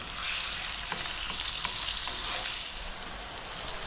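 Beef fries in a pot over medium heat, a close, constant crackling sizzle with short scraping bursts as the meat is stirred around.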